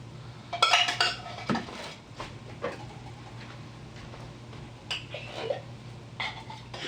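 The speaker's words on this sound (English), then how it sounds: "I'm going to stir in my cream of celery soup" Canned cream of celery soup stirred into sautéed onions in a pot, with a spoon clinking and scraping against the metal in scattered knocks and taps, fairly close and moderately quiet.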